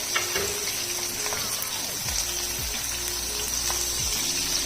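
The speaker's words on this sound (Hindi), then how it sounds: "इसको फ्राई करते हुए मुझे तकरीबन 10 मिनट हो गए और मीडियम फ्लेम पे मैं इसको फ्राई कर रही हूँ" Chicken tikka fries on a medium flame in an even, close sizzle, with faint scraping and a few sliding tones from the pan or stirring.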